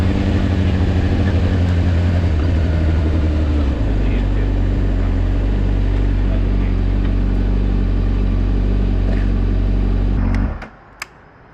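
A Honda CBR600RR 2024 four-cylinder motorcycle on the road, its engine a steady, loud drone with a gear change partway through, cutting off abruptly near the end into quiet.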